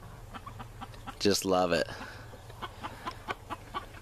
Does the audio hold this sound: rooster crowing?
yes